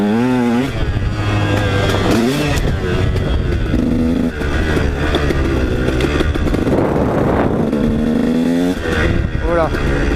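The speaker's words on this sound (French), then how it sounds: "Ça marche vraiment pas mal, 150 KTM de 2012." A 2012 KTM 150 SX two-stroke dirt bike rides along a trail, its engine rising and falling through revs, loud and close throughout, with someone talking over it.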